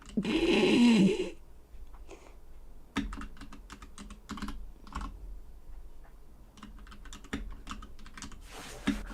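Rapid clicking of computer keys, bursts of typing with short pauses, close and fairly loud, with a loud noisy burst at the very start.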